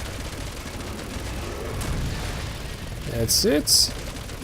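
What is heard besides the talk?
gunfire from shooting an enemy in the video game Resident Evil 6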